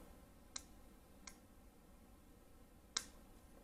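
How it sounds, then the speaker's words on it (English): Scissors clipping excess fluorocarbon fishing line, three quiet sharp snips spaced apart against near silence. "I'll take my scissors and I'll clip off just a little bit of the excess."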